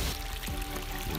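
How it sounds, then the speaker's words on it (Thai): Water gushes steadily from a two-inch solar-powered borehole pump, a continuous close rushing pour with no talk over it. "น้ำออกแรงอยู่"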